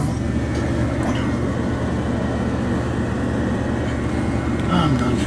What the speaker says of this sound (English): But right then the other train had come.